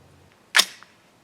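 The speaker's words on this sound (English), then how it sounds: "Bolt shut fine." A rifle bolt fitted with an ETS magazine snaps shut in one sharp, loud metallic clack up close, followed by a faint brief click and quiet surroundings.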